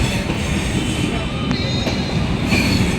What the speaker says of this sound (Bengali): 19166 সবরমতী এক্সপ্রেস